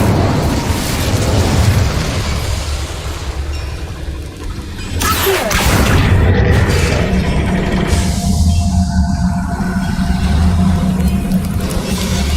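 Incendio fire spell cast in Hogwarts Legacy, a sudden loud whooshing burst midway over continuous rumbling game ambience, followed by a sustained roaring fire texture.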